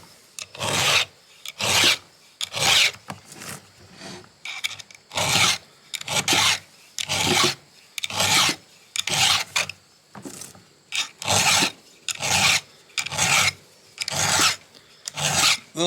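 Hand file sharpening a chainsaw tooth, about a dozen crisp rasping strokes in a steady rhythm, each a short loud scrape followed by a brief pause, close up.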